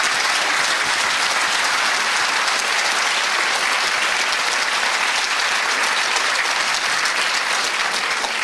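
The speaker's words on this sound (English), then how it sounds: "Padraig, would you please give him a round of applause?" Dense, loud applause from an audience at a maternity and infant awards ceremony, sustained evenly for over eight seconds with no voices on top.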